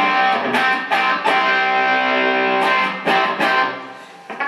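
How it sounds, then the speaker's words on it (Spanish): Electric guitar power chords played through a distortion pedal set to about half gain with the tone slightly rolled off, at low volume; dense sustained harmonic chords struck repeatedly in short bursts, close and fairly loud, with no talking. "si yo quiero tocar unos machaques con acordes de quinta, este es el pedal, está seteado por la mitad de ganancia"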